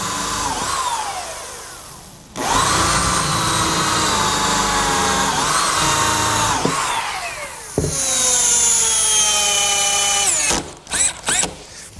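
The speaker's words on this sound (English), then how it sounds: "now for a couple screws down at the center brace." Power drill driving screws into the wooden center brace of a picnic table, several loud whining runs with the pitch sagging under load, brief pauses between, ending in short stuttering bursts.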